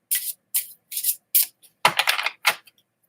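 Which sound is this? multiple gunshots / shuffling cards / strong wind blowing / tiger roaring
shuffling cards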